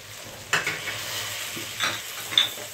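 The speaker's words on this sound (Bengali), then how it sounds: "একেবারে লাল লাল করে ভাজি করে নেব। ভিতর কয়টা গরম মশলা আর 3টে তেজপাতা দিয়ে দিব।" Whole spices and three bay leaves sizzle in hot oil in a pan, a steady close frying hiss broken by a few sharp stirring clinks and scrapes.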